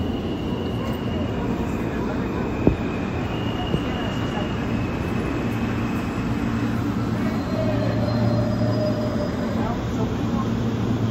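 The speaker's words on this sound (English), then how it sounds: "This is the King's Highway bound F local train." Steady low rumble of an R160A F local subway train in motion in New York, a continuous loud drone with a faint higher whine and a couple of brief clanks.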